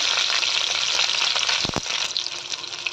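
Curry leaves and green chilies sizzle loudly in hot oil, a steady bright frying hiss with a brief burst of spattering near the middle, continuing alone without any voices.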